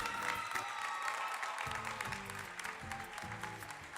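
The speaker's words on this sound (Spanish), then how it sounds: "El aplauso bien fuerte para Juventud Prolongada." Applause from the audience at a provincial folk dance gathering in Río Gallegos, a fairly quiet, distant wash of clapping under recorded music with a low rhythmic pulse.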